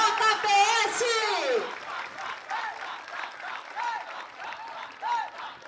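Applause for the JPS marching band at a 2015 performance, a light, patchy clapping that follows a voice at the start and continues in small bursts with crowd murmur.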